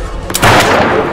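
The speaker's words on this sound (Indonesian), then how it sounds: "lalu menghajar Paul dengan brutal yang memaksa Sarah untuk melepaskan tembakan." A gunshot in a dramatic film scene: one sharp, loud report followed by a brief roar, with no talking.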